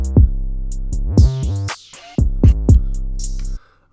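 An 808 bass pattern with slides programmed in FL Studio, heard as loud, deep booming bass notes alongside snappy drum hits and hi-hats, with a few notes gliding in pitch and a brief drop-out in the middle.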